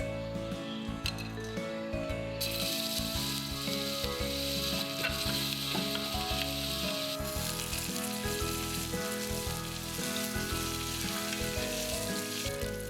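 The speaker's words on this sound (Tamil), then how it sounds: "குக்கரில் எண்ணெய் ஊற்றி பட்டை, ஏலக்காய், கிராம்பு, இஞ்சி பூண்டு பேஸ்ட் சேர்த்து வதக்கிடலாம்." Cinnamon, cardamom, cloves and ginger garlic paste sautéing in oil inside a pressure cooker, a loud continuous sizzle with stirring and the odd clink of a spoon against the metal.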